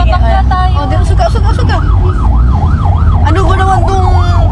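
An ambulance siren wails loudly in a rising and falling cycle over dense traffic and street noise, close by and steady throughout, with voices mixed in underneath.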